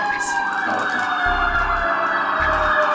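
An emergency siren wails nearby over low traffic rumble, with a heavy vehicle's engine thudding underneath.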